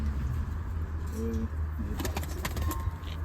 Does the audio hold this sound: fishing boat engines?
no